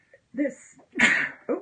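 One sharp sneeze bursts out during an indoor acrylic painting session, set between a few short spoken words from a person nearby.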